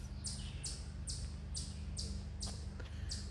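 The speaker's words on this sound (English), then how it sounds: "And I hear the sweet birds chirping and singing." Repeated bright bird chirps, roughly two per second, over a steady low hum, moderately distant and fairly soft.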